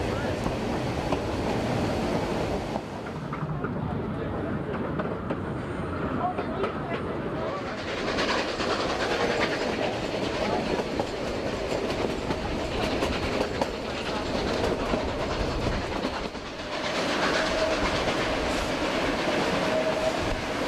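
A scenic narrow-gauge train runs beside the Animas River toward Silverton in the Colorado mountains, with continuous rumbling and rhythmic clickety-clack of wheels over rail joints, loud and close throughout.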